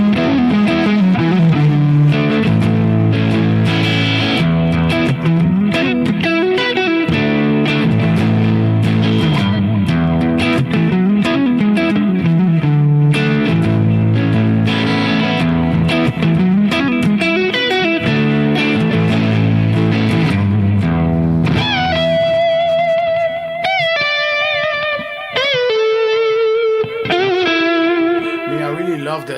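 Electric guitar with a low-gain, lightly driven tone, played with effects and reverb in a loud, continuous bluesy passage of chords and melodic runs, ending in clean, ringing high notes.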